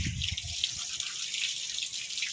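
Water hisses and splashes steadily from a garden pipe on a terrace garden, close and continuous with no talking.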